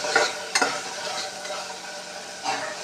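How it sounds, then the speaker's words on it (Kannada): Raw ginger garlic paste fries in a pan for vegetable upma, with a loud, close sizzle and two or three quick stirring scrapes. "ಹಸಿ ಜಿಂಜರ್ ಗಾರ್ಲಿಕ್ ಪೇಸ್ಟ್ನ ಚೆನ್ನಾಗಿ ಫ್ರೈ ಮಾಡ್ಕೋಬೇಕು"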